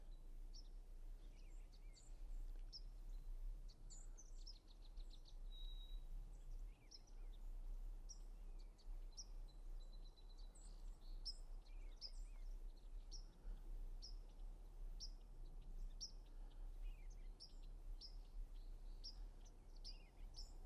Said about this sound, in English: Here's song sparrows.